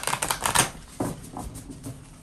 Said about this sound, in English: Do one more bridge shuffle.